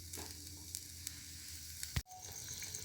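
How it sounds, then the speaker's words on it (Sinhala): Soya meat curry with a little added water bubbles and sizzles in a pan, a steady close frying hiss broken by one sharp knock near the end. "දැන් නම් කරීක උතුරනවා"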